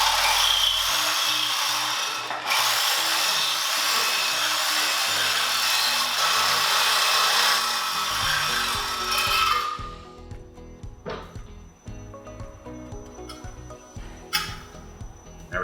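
A power tool cuts through the metal frame neck of a bagger motorcycle being raked, a loud, continuous harsh grinding rasp for about nine seconds, then stopping into scattered clanks and knocks of metal handling.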